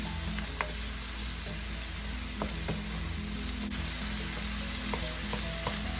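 Vegetables for squid adobo cook in a pan with a steady, soft sizzle and faint crackles, with a few light clinks of a utensil; no voices.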